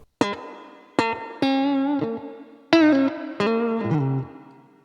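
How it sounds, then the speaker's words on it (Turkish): Five picked electric guitar notes and chords sound through the spring reverb simulation of a Line 6 Micro Spider amp, each attack ringing out and sustaining with a soft reverberant wash, no talking. "Spring Reverb demiştim. Dikkat ederseniz yaylı reverb simülasyonu."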